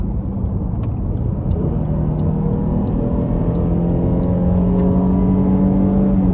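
A Dodge Durango GT Blacktop RWD with a V6 pulls hard in sport mode, its engine note rising steadily through the gears, heard from inside the cabin as a loud, continuous climbing drone.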